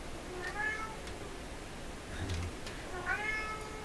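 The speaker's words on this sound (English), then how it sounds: "cat's losing its patience" A cat meows near a workbench where an old Heathkit SB104A transceiver is being repaired. There are two clear, close meows at the start and end, plus a fainter one in the middle, over low background noise.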